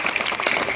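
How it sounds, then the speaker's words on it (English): Audience applause fills a brief moment at an elocution event at a Hyderabad coaching centre, a dense steady wash of many hands clapping close by with no voices over it. "we need to give him a round of applause"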